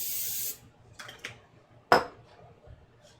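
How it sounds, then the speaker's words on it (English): Cooking spray hisses onto a heated waffle maker in one loud half-second burst, followed by faint clinks and a single sharper clatter of kitchen gear. "Give ourselves another quick spray."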